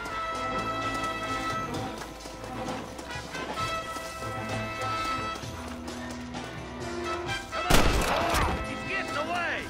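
Gunfire in the Western video game Red Dead Redemption amid galloping hooves and game voices, with a sharp loud shot bursting out near the end.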